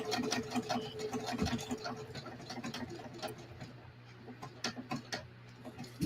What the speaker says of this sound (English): all I have is a straight stitch machine